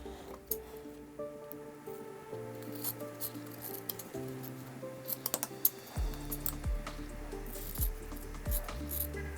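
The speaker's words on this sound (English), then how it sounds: "the cutting of these little strap connectors, that's without a doubt fine cutting" Scissors make small, quiet snips and rubbing clicks while cutting little strap connectors for a handmade bag, with soft tonal music underneath.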